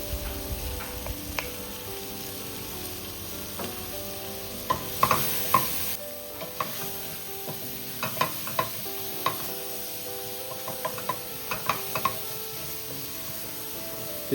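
Ginger garlic paste fries for sambhar in a pan, giving a steady sizzle under repeated scraping and clicking strokes of a spoon stirring against the metal.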